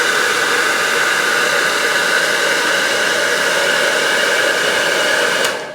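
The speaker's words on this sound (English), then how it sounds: "Roll, pull, roll, pull while the blow dryer is going" A blow dryer runs steadily and loudly while hair is rolled and pulled with a brush during a professional-style blow dry at home, a constant airy whir that cuts off abruptly near the end, with no talking.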